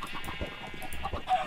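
Chickens cluck in Minecraft, a few short blocky bird calls scattered across a busy game soundscape, with no talking.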